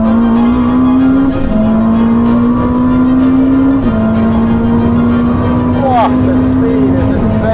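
A Ferrari SF90 supercar accelerates hard on a track, its loud engine tone climbing steadily with brief drops at gear changes, close and continuous throughout.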